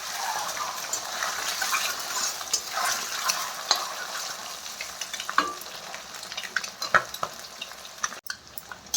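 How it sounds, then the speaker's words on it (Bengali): Eggs fry in a pan with a little salt and turmeric, giving a steady crackling sizzle with scattered sharper pops and stirring scrapes, close and alone. "অল্প হলদি দিয়ে ডিমগুলো এখন ভেজে নেবো তারপরে লাল লাল করে।"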